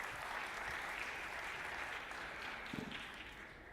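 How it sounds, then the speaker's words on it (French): Steady applause from a conference audience, a dense wash of clapping that holds for several seconds without voices over it. "On peut applaudir, c'est très intéressant."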